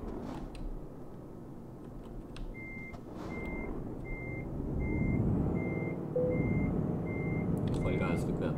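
A truck reverses in Euro Truck Simulator 2, its backup alarm beeping steadily at a regular pace over a low engine rumble, with a voice talking over it and the engine swelling toward the end.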